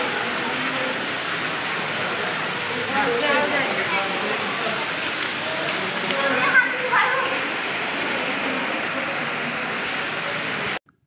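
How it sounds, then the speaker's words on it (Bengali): An artificial mountain-style waterfall beside the stairs of an indoor aquarium gives a steady, even rush of falling water throughout, with faint voices in the background, before cutting off abruptly at the end. "উপরের তলায় যাওয়ার এই সিঁড়ির পাশে পাহাড়ি একটি কৃত্রিম ঝর্ণা ছবি তোলার জন্য বানানো হয়েছে"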